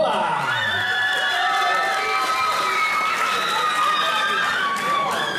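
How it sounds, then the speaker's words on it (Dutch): Crowd cheering and applauding after a jury decision at a kickboxing fight, a loud continuous roar of mixed shouts, whoops and clapping filling the whole stretch. "Een applaus voor Murat Bouwvalla."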